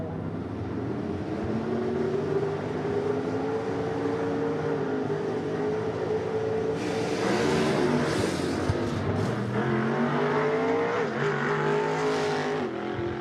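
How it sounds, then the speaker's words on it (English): A gasser drag race car, a 1950s-style machine, launches at Shadyside Dragway: a loud, steady engine drone that rises and wavers in pitch, then breaks into harsher bursts as the run is aborted. "Car launches and goes left again on him, so he aborts that run."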